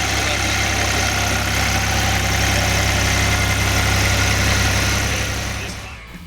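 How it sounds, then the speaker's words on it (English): A Lamborghini tractor engine running steadily at a car week gathering, a loud continuous low rumble close by that holds level and then fades slightly at the end. "It was also a treat to see a Lamborghini tractor in motion."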